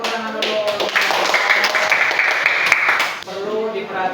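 A class of students claps in a classroom, a busy, continuous patter of many hands heard over a sustained tone and some voices, ending abruptly before talking resumes.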